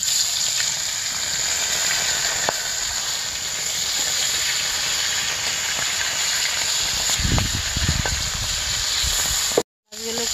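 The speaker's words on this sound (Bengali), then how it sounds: "মাছগুলো ভেজে নিই আগেই" Folui (Indian featherback) fish pieces fry in hot oil in a home kitchen, giving a steady, close sizzling hiss throughout, with a few soft clinks of utensils near the end.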